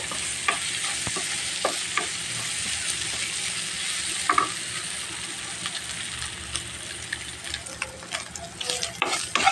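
Minced fish fries in a hot pan for fish cutlets, a continuous close sizzle broken by scraping stirs and scattered clinks of the utensil.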